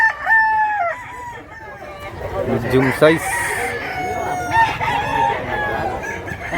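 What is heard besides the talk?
rooster crowing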